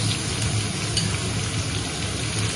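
Chopped onions frying lightly in white oil with cinnamon, cardamom and other whole spices for a yogurt chicken curry, a dense even sizzle held close and steady throughout.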